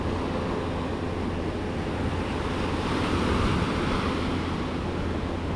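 Ocean waves at high tide on the beach at Weligama, Sri Lanka, a steady roaring wash of surf with a gentle swell midway, touched by wind noise on the microphone and free of speech.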